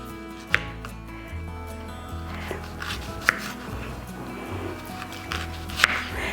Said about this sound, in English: Now I'm going to slice the pear exactly how I want it.